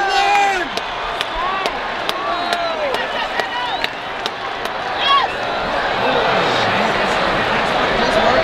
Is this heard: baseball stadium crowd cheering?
yes